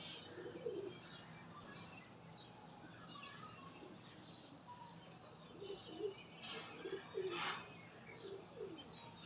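High-quality breeder pigeons at a loft give soft, intermittent coos, mixed with light chirps and a brief flutter of wings, fairly quiet and close.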